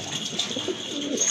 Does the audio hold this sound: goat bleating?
no